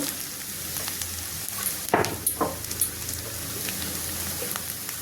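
Cauliflower and green chilli hitting hot oil in a pan, a close sizzle with a brief burst of louder crackling and spattering midway, then settling into steady frying.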